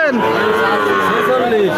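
Red local-breed heifer calf lowing loudly and close at a busy cattle market, one long drawn-out moo with other cattle and crowd noise behind it.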